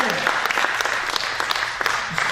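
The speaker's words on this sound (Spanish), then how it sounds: "¿A cómo no le podemos dar un fuerte aplauso al Señor?" A church congregation claps for the Lord, a dense burst of applause with sharper individual claps standing out, loud and close, with a voice partly audible underneath.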